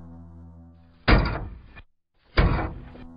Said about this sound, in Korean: 덜컹덜컹 덜컹덜컹 하는 대문 소리가 났다